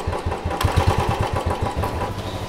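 A motorcycle engine runs close by with a rhythmic, throbbing putter at a steady idle, fairly loud and with no talking.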